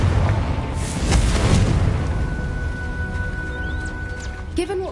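A Confringo blasting spell in Hogwarts Legacy erupts in a loud, booming explosion, with a rumbling burst that swells and slowly decays, ending with a brief sharp magical flourish.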